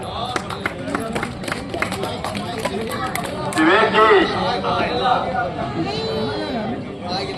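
Audience clapping at a Holi kavi sammelan poetry gathering in Biswan, Sitapur: rhythmic unison claps in the first few seconds, then a swell of crowd chatter and voices talking over the noise.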